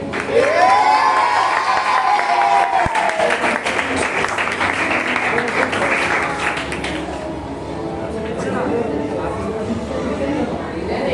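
A crowd at a VBS stage program applauds and cheers, clapping loud and sustained across the room, with shouting children and chatter mixed in and a voice speaking over the noise at the start.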